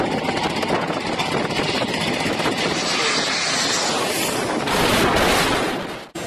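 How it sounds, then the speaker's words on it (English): A Gulfstream jet comes in to land on a closed runway where workers are doing repairs, a loud, steady, close engine roar that holds throughout and cuts off abruptly at the end. "This Gulfstream jet nearly lands on workers repairing a closed runway."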